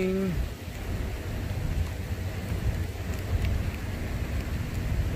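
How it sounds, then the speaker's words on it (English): Steady rain falls during a tornado watch, a dense continuous hiss with low rumbling underneath, close and fairly loud throughout. "It's raining."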